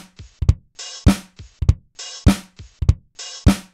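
Programmed drum beat in Logic Pro X: kick and hi-hat with a default replacement snare sample, repeating in a steady loop of crisp hits without any talking.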